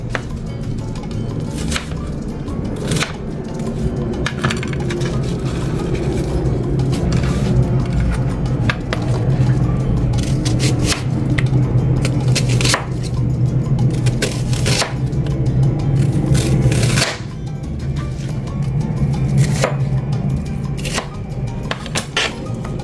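A knife chopping onion on a cutting board for shrimp aguachile, rapid steady knocks close and loud, continuing at a regular rhythm for the whole stretch with a few brief pauses.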